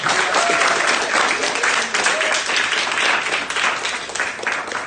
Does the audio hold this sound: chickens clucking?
no